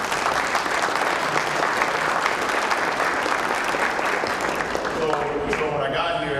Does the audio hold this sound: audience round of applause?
yes